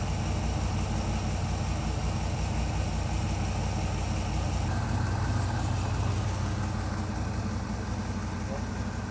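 A car engine with no accelerator pump idles at an even, low rumble throughout, never rising or revving, with some faint background noise.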